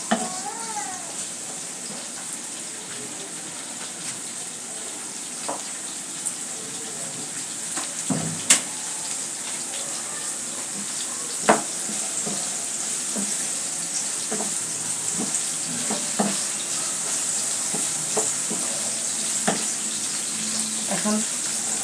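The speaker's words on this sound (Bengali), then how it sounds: "আদা ভাজা হয়ে গেলে তারপর দিয়ে নিব পেঁয়াজ কুচিটা" Ginger, garlic and chili sizzle steadily in a pan over a long stretch, with frequent scraping and tapping as a spatula stirs them, close and continuous with no talk.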